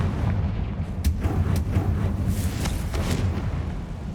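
Confringo fire-spell blasts in Hogwarts Legacy go off as a series of sharp, punchy booms over a steady rumbling game backdrop, several explosions in quick succession.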